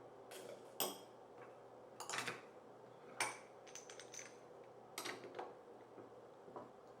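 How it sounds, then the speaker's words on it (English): Coffee beans scooped and poured into a Daurunfy manual coffee grinder with its burr set wide open for a coarse grind, giving a handful of short, close rattling clatters and hard clicks over a faint steady hum. "Each one of these tests, I will give it 4 scoops of beans."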